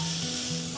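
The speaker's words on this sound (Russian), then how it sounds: "Сюда мы теперь можем кинуть лавровый лист, чтобы немножко проджарился." A fresh bay leaf frying in a pan of oil while cooking borscht, a loud, close, continuous sizzle and crackle with no talk.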